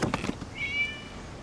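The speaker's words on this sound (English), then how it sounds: "It was just a cat." Single short cat meow in the Genshin Impact video game, fairly faint and brief, following a few soft thumps.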